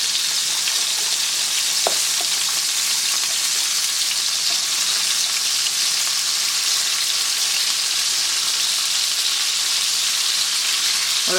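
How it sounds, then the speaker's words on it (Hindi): Aloo keema tikki sizzling steadily in hot oil, a dense continuous frying hiss with occasional faint pops and no talking. "तो देखिए जैसे जैसे फ्राई हो रही हैं आप इसकी साइज चेंज करते हैं।"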